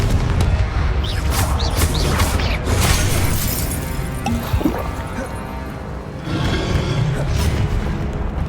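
Loud, continuous magical combat from Hogwarts Legacy, with Confringo fire-spell blasts booming and crashing over a dense, layered battle din, punctuated by sharp impact bursts.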